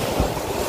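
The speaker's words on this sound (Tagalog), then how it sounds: "Medyo mataas pa yung dagat." Sea waves wash onto the beach shore at Plaridel, Quezon Province, a steady, dense roar of surf mixed with wind rumble against the microphone, with no voices.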